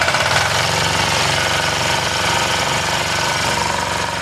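An engine running on algae-based synthetic fuel, a loud, continuous rapid clatter with a harsh, knocking rhythm.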